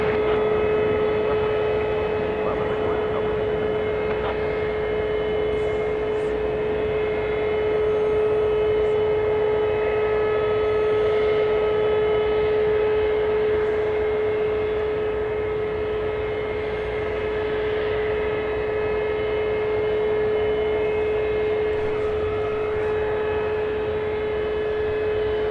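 A Qantas airliner departs for Sydney at night, its engines holding a steady, droning hum with a constant tonal whine that carries on unbroken at a distance.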